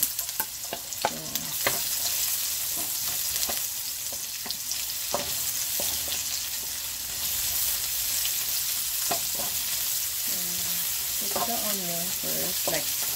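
Onion frying in rendered bacon oil for a bitter melon stir-fry, a constant close sizzle with repeated spatula scrapes and taps against the pan, and a brief squeaky scraping burst near the end.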